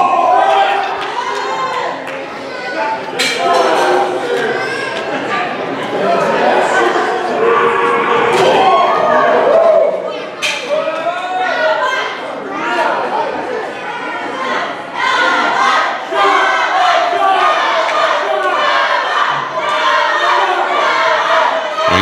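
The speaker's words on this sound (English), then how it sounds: "now they're cheering for the other half of the 2014 Tag Team of the Year" Wrestling crowd at a tag team championship match cheering, shouting and chanting loudly and continuously, a dense roar with rising bursts of yells throughout.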